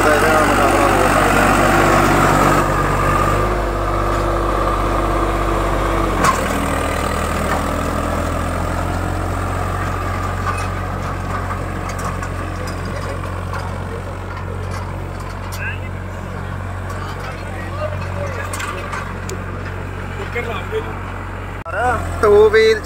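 Swaraj 855 and Kubota 5502 tractors pull an 18-tine harrow, their steady, loud low engine drone running throughout with voices talking over it.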